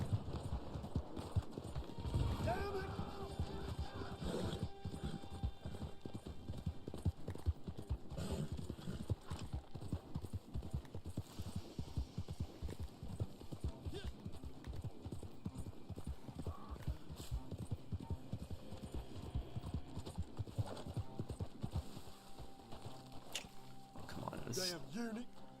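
Hooves pound in a fast, steady clip-clop as a horse gallops in the video game Red Dead Online, with someone talking over it and an occasional whinny.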